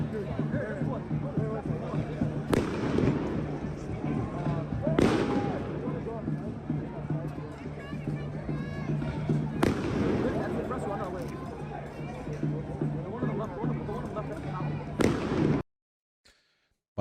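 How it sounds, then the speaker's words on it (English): Several big concussive booms from police devices go off at a protest, with sharp loud blasts spaced a few seconds apart over constant crowd noise and a low steady hum. "Bunch of sound concussive bombs. Just means big bangs."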